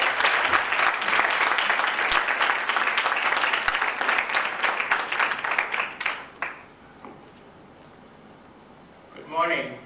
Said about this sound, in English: Let's welcome sir with a huge round of applause.